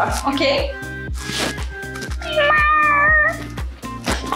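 A woman imitates a cat with several drawn-out, rising and falling meows, mixed with brief speech and a steady low rhythmic backing underneath.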